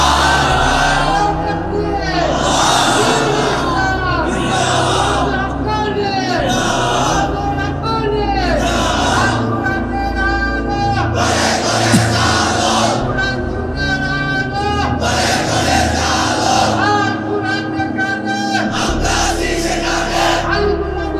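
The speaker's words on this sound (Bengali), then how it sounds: "তোমরাই স্লোগান দাও, তোমরাই তাকবীর বলো" A large crowd at an Islamic sermon gathering shouts slogans and takbir together, loud and rhythmic, in repeated bursts of massed voices that rise and fall back.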